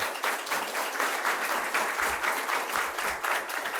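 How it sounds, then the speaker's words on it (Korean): Sustained warm applause from a church congregation during a Sunday worship service in Seoul, honouring volunteer teachers, many hands clapping steadily at a moderate distance. "서로 뜨거운 박수를 한번 부탁합니다"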